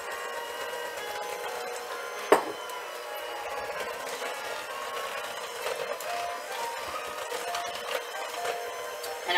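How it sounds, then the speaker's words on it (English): An electric hand mixer churns through thick lemon Bundt cake batter, a steady, close whirring with a gritty scraping texture that runs throughout, broken by one sharp knock near the start. "It's definitely harder to move my mixer through"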